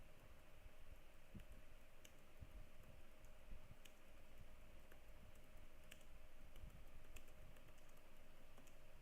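Rapid, steady keystrokes on a computer keyboard as a post is typed, an even run of light clicks with no pauses or talk, close and fairly quiet.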